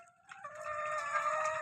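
Tiger breed chickens calling nearby, a drawn-out, strained crowing-like cry that rises and holds for over a second, heard alone and fairly clear.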